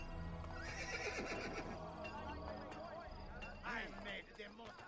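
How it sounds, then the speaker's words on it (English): A horse in the video game Assassin's Creed: Brotherhood neighs loudly several times over clopping hooves, with someone talking over the game sounds. "I've got a horse all up in my grill here."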